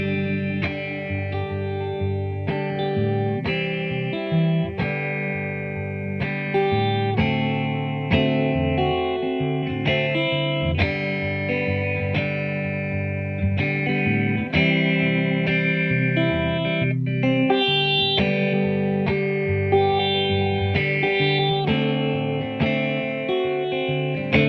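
A 1957 ES-225td electric guitar played clean through an Allston amp, finger picked in a steady run of plucked notes and chords with ringing sustain.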